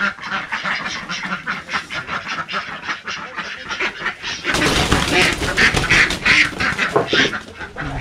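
Male and female ducks quack loudly and repeatedly at close range on a farm with a pond in a Tày village. The quacking grows busier and denser partway through, as if the birds are being caught.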